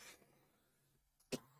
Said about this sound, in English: I keep coughing.